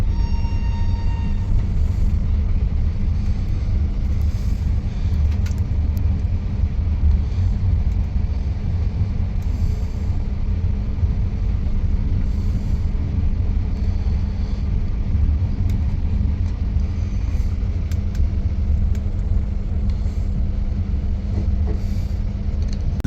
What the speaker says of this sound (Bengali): আর আমরা 4 নম্বর দিয়ে বেরিয়ে যাচ্ছি দুরন্ত এক্সপ্রেস